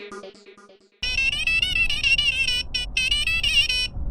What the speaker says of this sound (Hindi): चाचा जी जेठालाल का फोन